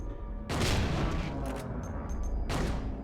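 James fires a gun in Silent Hill 2: two heavy blasts about two seconds apart, the first trailing into a long echoing rumble, with a few faint metallic clicks between them.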